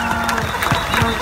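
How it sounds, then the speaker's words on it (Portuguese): A crowd at the Lula Livre march in São Bernardo do Campo applauds loudly outdoors, continuous clapping mixed with shouting voices and crowd noise. "Quero pedir uma grande salva de palmas"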